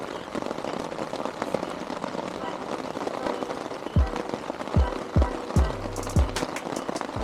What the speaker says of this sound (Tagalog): Yan, lumalakas talaga yung ulan, oh.